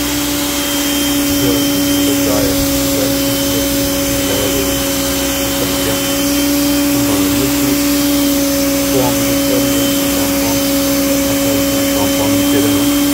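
A Nilfisk 150 Core pressure washer runs on its third level with a steady, loud motor whine and hissing water spray that continues without a break, under a faint voice.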